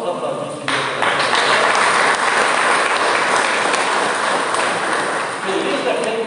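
A church congregation breaks into sustained applause at a Portuguese-language worship service, a dense, steady wash of clapping that swells quickly and holds for several seconds before easing slightly.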